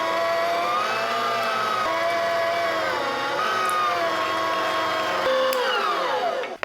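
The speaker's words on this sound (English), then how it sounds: "grinding the meat." An electric meat grinder works through beef for sausage with a steady, loud motor whine and grinding drone, running continuously without a break and unaccompanied by voices.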